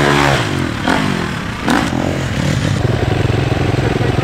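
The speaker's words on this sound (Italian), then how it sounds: "Basta dare il gas giusto in rampa che poi praticamente fa tutto da solo la moto." Motorcycle on a ramp before an 18 m jump, its engine revving loudly and close with sharp throttle blips, then settling into a fast, rhythmic mechanical pulsing.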